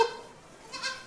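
A goat gives a soft, short bleat up close, then a second faint bleat a moment later, in a quiet farmyard setting.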